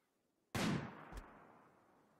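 Gunfire during a raid in the video game Rimworld: one sudden loud blast with a long fading tail, then a second, softer shot about half a second later.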